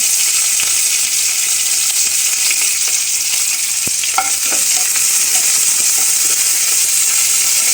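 Green chillies and curry leaves crackle in hot oil with mustard and cumin seeds for a tomato curry, a steady bright sizzle running throughout with a few sharper pops, close and loud, no talking.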